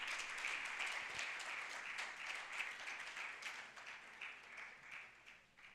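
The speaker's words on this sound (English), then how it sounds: "Big round of applause" An audience applauds at a campaign launch event, steady clapping that sounds somewhat distant and gradually thins out.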